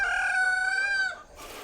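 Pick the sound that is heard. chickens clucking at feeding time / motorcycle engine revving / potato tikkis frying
chickens clucking at feeding time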